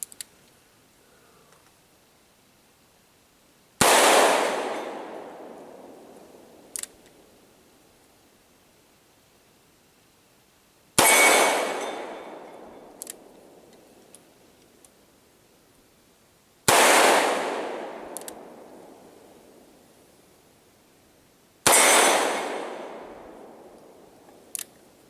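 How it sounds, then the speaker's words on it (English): A Charter Arms Bulldog revolver fired single action at 12 yards: four loud, sharp shots spaced roughly five to six seconds apart, each with a trailing outdoor echo, and small clicks in the quiet gaps. "we're gonna go for single action trigger pulls this time"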